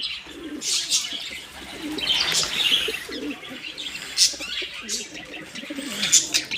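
Pigeons kept in a village loft coo repeatedly in soft, rolling phrases, mixed with small chirps and a brief flutter of wings, fairly close and steady throughout without speech.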